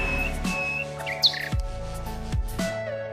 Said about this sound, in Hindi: उसने रखा है एक छोटे नन्हे पंछी को